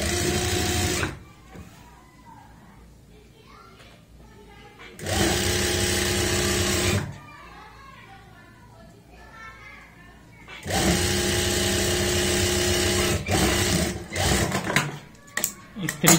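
An electric sewing machine stitches fabric for palazzo pants in three loud, steady bursts of whirring, with quieter pauses between them where a voice and faint background sounds are heard.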